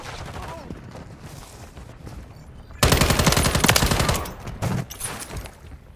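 Automatic gunfire in the video game Modern Warfare III, a loud sustained burst of rapid shots following quieter action, with voices calling out beneath.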